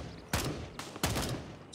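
Video game gunfire in Gray Zone Warfare, three sharp bursts of shots at close range, each cracking out and decaying quickly, with short quiet gaps between.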